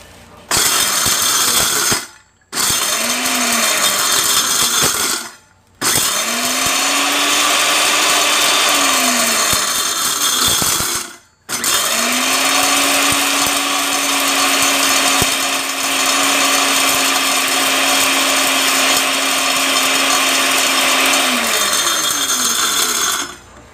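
A grinding machine milling dried bellflower root into powder runs with a loud, harsh whirring roar, stopping briefly three times and restarting, its motor pitch rising and holding steady during each run.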